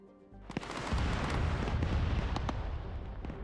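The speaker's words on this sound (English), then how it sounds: "Another airstrike just came in on some infantry over there from that 24." An airstrike on infantry in Arma 3 hits as a loud rumbling barrage of explosions and cracking blasts, with sharp repeated impacts rolling over a sustained boom.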